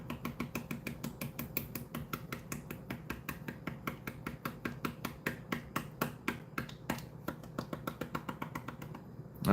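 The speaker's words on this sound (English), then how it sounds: "I tapped away the black sand." A gold pan is tapped repeatedly to clear away black sand during a gold cleanup, a long run of sharp, evenly spaced close taps.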